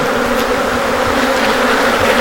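Stingless bees swarm around a hive frame, making a dense, steady, close buzzing that stays loud and unbroken throughout.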